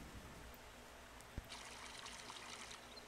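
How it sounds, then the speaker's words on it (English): Liquid pours onto grapes in Farming Simulator 22, a soft steady trickling stream that starts after a brief click and runs on at low level for about a second and a half. "let's pour this onto the grapes and see"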